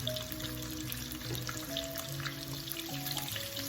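Salmon fillet sizzles and crackles steadily in a hot frying pan after being flipped to cook the other side, a continuous quiet hiss with faint spattering and a low hum beneath.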